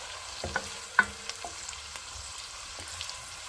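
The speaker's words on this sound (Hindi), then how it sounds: "जैसे ही घी गर्म होगा हम प्याज डाल देंगे। प्याज को हमने ज़्यादा पकाना नहीं है, पिंक सा ही करना है।" Onions frying in hot ghee give a soft, steady sizzle, broken by a few light stirring taps of a utensil against the pan, close and fairly quiet.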